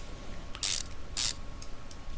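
In the Car Mechanic Simulator 2015 video game, a wrench tightens wheel bolts: two short, bright mechanical bursts of ratcheting with fainter clicks between them, heard alone without talk.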